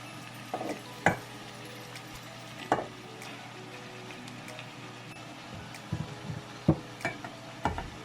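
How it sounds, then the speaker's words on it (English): Callaloo sautéing in a pot while being stirred: a soft steady sizzle with intermittent spoon knocks and scrapes against the pot, close by. "Then you just want to stir it."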